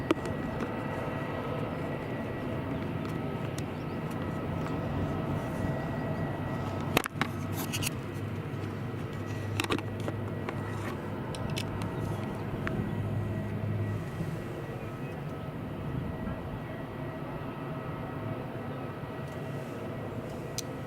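An EasyJet airliner sits at Madeira Airport, about to taxi, with its engines giving a steady, fairly distant rumble that holds throughout. A brief clatter sounds partway through.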